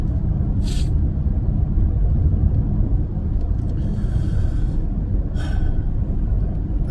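Steady low rumble of a car driving on the road, heard from inside the cabin, with a couple of brief higher hisses or squeaks standing out over the constant road noise.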